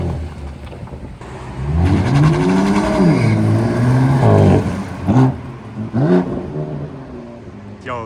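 A BMW with a loud aftermarket exhaust revs hard, its engine note climbing and falling in several swelling sweeps, then giving a couple of short sharp blips, heard close and prominent with no speech.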